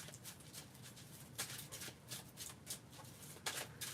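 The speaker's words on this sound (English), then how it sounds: "let me shuffle these cards" A deck of tarot cards is shuffled in a series of quick soft riffles and flicks, quiet and close, with a few sharper bursts near the middle and end.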